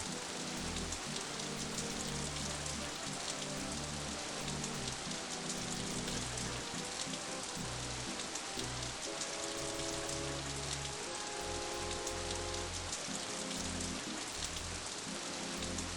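Rain from the Death Gate adventure game pours in a dense, steady hiss of drops beating on a surface, continuous and even throughout with a faint looping texture, heard alone without voices.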